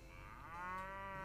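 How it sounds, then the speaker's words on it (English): Cattle in the video game Mount & Blade: Warband give a long, drawn-out moo that swells and holds steady, close and clear, with no talk over it. "So now we have all these cattle with us."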